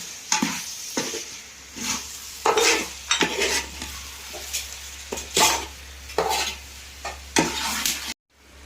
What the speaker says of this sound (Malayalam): ഇനി ഇത് എല്ലാം കൂടി ഒന്ന് ഇളക്കി വഴറ്റട്ടെ.